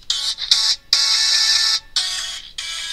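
A custom Hyundai Motor Group ringtone plays loudly on an Android phone, a bright electronic chime in repeated bursts with short pauses between them, heard alone.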